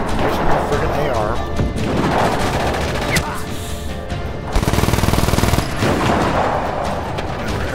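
Assault rifle gunfire in Just Cause 3, loud scattered shots and a rapid burst of automatic fire, with crashing impacts and a person talking throughout.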